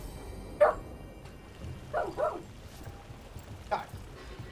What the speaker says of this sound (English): Guys, do not bark at the meat.